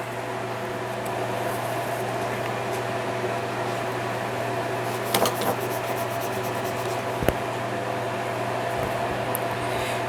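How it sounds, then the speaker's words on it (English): A blower fan on a wood burner gives a constant, even hum beside a crafting area, broken only by a couple of faint clicks and a sharp tap. "We have the blower fan on our wood burner, and unfortunately it's right next to my crafting area."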